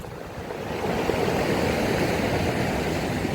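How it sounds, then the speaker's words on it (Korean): Ocean waves roll in on an island shore at Bogildo, a continuous loud wash of surf that swells slightly after the first second and stays steady, with no voices. "파도가 찾아듭니다."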